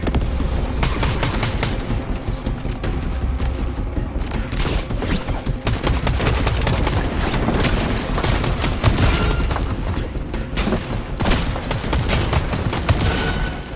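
Chaos Reloader shotgun firing in a video game, a dense barrage of loud, overlapping blasts and rapid gunfire throughout, continuous and close with booming impacts and mechanical clatter.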